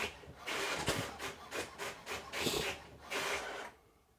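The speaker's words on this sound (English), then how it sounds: "my wife must be printing something, so there's going to be a little noise in the background." A home printer runs in the background, giving repeated rasping, rubbing passes in bursts of roughly half a second, moderately close and fairly faint, with no talk over it.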